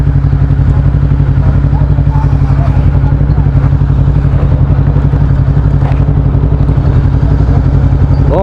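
A motorcycle engine idles close by during parking, a steady, loud, low throbbing rumble with a fast even pulse throughout.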